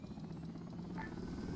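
A military helicopter engine spools up during a field training raid exercise, a loud, close, continuous rotor thrum and whine filling the short stretch.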